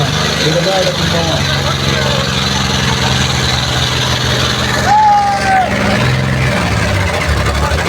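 A heavy tractor diesel engine rumbles and revs steadily and loudly throughout at a tractor competition, with a brief whining tone midway and crowd noise around it.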